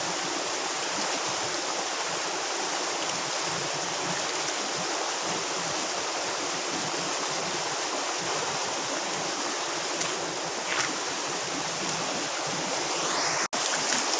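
A forest stream rushes in a loud, continuous, close-up wash of flowing water that stays steady throughout with no talking.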